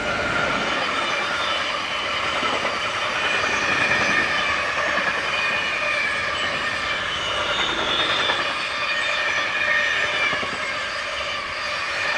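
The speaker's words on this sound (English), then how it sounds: "heads south with a very lightly loaded container train" A lightly loaded container train hauled by locomotive 193225 rumbles past steadily heading south between Würzburg and Gemünden, Germany, with metallic wheel squeal and rail noise holding loud throughout.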